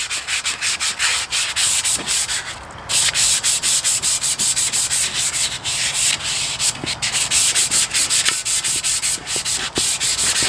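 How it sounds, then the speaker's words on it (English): Hand wet-sanding of a Borla Stinger exhaust pipe on a 2004 Cobra with 400 grit paper, a steady rapid back-and-forth rasping rub repeating rhythmically throughout, close and loud with no talking. "I'm going to finish this one step with a 400, and then I'll cut back when it's completely sanded"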